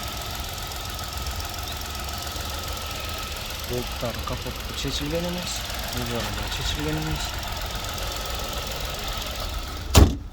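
A 2018 Chevrolet Spark with a 1-litre petrol engine idles in a steady low hum while someone talks over it, and a sharp knock is heard near the end.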